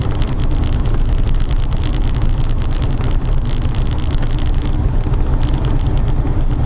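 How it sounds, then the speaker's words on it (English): Black truck engine on a test run along a back road after a transmission install, a loud steady rumble with continuous road and wind noise and no voices. "doing a little test running with the black truck here"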